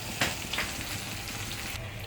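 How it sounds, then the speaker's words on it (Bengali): Sun-dried lentil dumplings and spinach fry in hot oil in a pan, making a close, steady sizzle and crackle with a couple of sharper pops near the start. "এই দেখো এখানে বড়িটা ভেজে নিচ্ছি, তেলে একটু দিয়ে দিলাম।"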